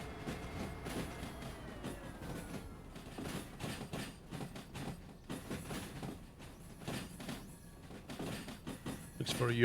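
Locomotive and wagons rolling along the track in the Derail Valley train simulator, a steady low rumble with scattered clicks and clanks, fairly close, with talking over it throughout.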